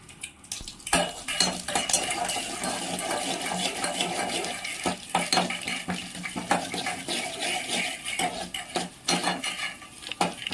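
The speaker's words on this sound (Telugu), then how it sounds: "ఒక గిన్నె పెట్టుకుని ఆయిల్ వేసి గిన్నెలో తాలింపులు వేసుకుని" Tempering spices fry in hot oil in a pot while being stirred, giving a steady sizzle with frequent sharp clinks of a utensil against the pot, close and continuous.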